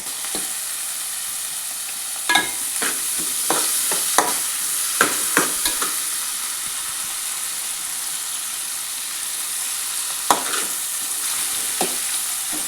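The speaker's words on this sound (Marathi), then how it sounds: "कांदा आणि टोमॅटो चांगलं शिजवून घ्यायचं." Chopped onion and tomato cooking in a pan, a steady soft sizzle with occasional sharp taps and scrapes of a spoon stirring, close, moderately quiet, no voices.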